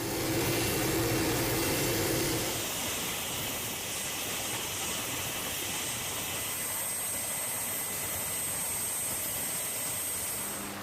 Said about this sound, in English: A remote-controlled miniature helicopter with incredible potential to provide surveillance and reconnaissance.